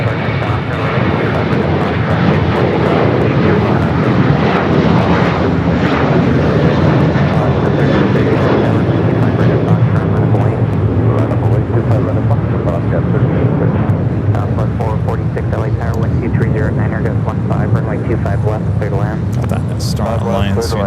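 An airliner takes off from LAX on the south side, its jet engines roaring loudly and steadily for the whole stretch, the thrust rumble holding constant with continuous talk running over it.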